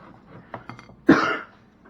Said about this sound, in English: Curse this cough!